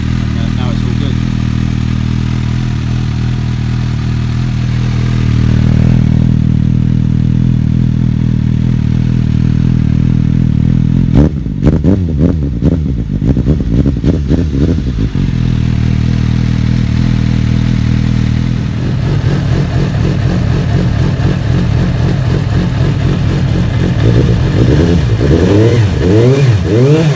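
A Suzuki GSR-750 motorcycle engine runs steadily with a low, throbbing idle, then a few sharp revs and clattery bursts, and a rougher uneven running near the end, loud and close.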